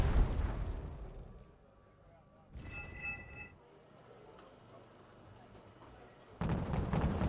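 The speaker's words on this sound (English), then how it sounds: "Su-24 MP flying over, dropping in some bombs, this time on the M60A1 pattern" Su-24MP dropping bombs on M60A1 tanks in Wargame: AirLand Battle, heavy rumbling blasts at the start, a brief burst mid-way and another at the end, with quieter battle noise between.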